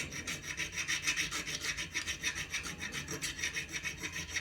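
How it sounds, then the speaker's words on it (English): A hand file rasps back and forth on a metal knife thumb stud to bring it to size, a quick even rhythm of close, scratchy strokes with no talk. "So now I'm going to start filing"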